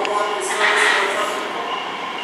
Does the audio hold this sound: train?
yes